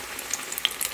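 Shrimp, tomato and chili pakoda frying in hot oil in a small pan, a soft steady sizzle with scattered faint pops and crackles, no talk.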